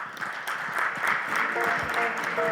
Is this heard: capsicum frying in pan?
no